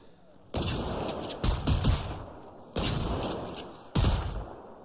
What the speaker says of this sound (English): Fires explosive rounds